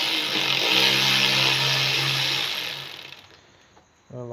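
A power tool fitted with an E6 Torx bit removes bolts from the top end of a BMW N20 engine, giving a loud, close whirr for about three seconds that winds down and then stops.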